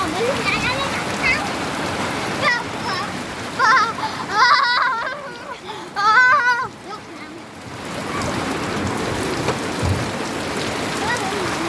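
Steady rain pours and splashes outdoors while people bathe in it, a constant wash of water under lively talk and calls from several voices throughout.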